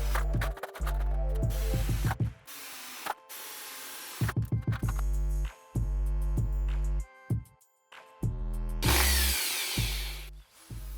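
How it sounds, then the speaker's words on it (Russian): A power drill bores holes into a tiled concrete bathroom wall, first with a tile bit and then with a concrete bit, in loud close bursts of whining and grinding separated by short pauses and clicks. "Отверстие в стене я сначала сверлил сверлом по кафелю, а потом уже сверлом по бетону."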